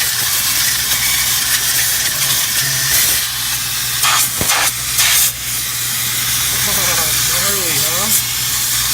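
CO2 blasts through a dirty condenser with a loud, continuous hissing spray and some irregular bursts and whistling tones, while voices talk briefly over it.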